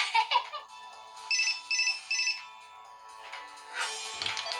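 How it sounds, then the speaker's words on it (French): A phone's text message alert tone plays several short bright chiming pulses in a quick repeating pattern, fairly faint, followed by a softer burst of sound. "Un texto."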